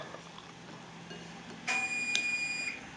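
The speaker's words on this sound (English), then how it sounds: "the oven just beeped and said it's ready" A kitchen oven preheated to 350 degrees signals ready with a bright electronic beep tone, followed by a second short chirp, over a low steady background hum.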